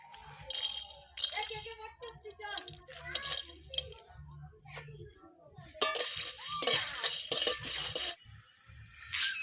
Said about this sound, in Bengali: এগুলো সব একসাথে শুকনো খোলায় ভেজে নেব